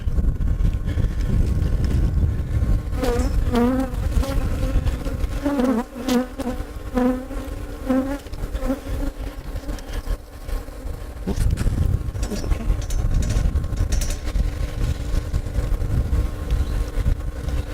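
A bee vacuum draws bees out of a hive box with a continuous loud roar and rushing air. The dense buzzing of many bees runs underneath the whole time.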